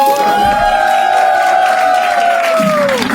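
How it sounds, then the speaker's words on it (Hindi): Studio audience at a corporate comedy crowd-work show cheering and whooping for a game's winner, a loud steady crowd roar with a sustained tone running through most of it. "एक बार जोरदार तालियां हो जाए दोस्तों"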